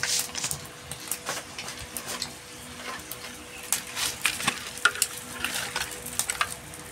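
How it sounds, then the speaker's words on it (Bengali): Panch phoron spices frying in mustard oil in a wok give soft, scattered crackles and small pops over a low hiss, quiet and close, with no talking. "কড়াইয়ের মধ্যে দিলাম সর্ষের তেল, এই যে কিছুটা পাঁচফোড়ন"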